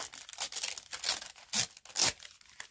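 A paper bag tears in several short, ragged rips with crinkly pauses between them, close and fairly quiet, with no voices.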